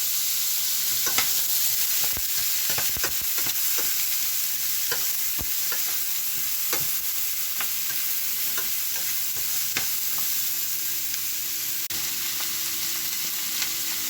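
Butter and garlic cooking in a pan alongside chicken, a loud, dense, constant sizzle with scattered sharp ticks and pops, heard up close with no one speaking.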